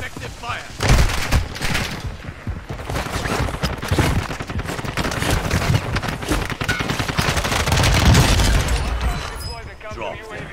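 Dense bursts of automatic gunfire and rapid shots during a Warzone 2 match on Ashika Island, loud and close, rattling almost nonstop with players shouting over the shooting.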